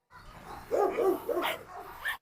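A dog's short whiny barks and yips, several in quick succession, close and fairly loud.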